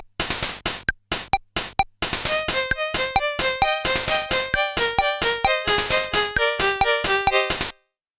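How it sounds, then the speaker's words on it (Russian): A Casio CT-S500 synthesizer plays a classic Casio tone in short staccato notes, first a few sparse hits then a rapid, bright, evenly pulsing melodic run that stops abruptly. "И следующий раздел у нас Classic Casio Tones."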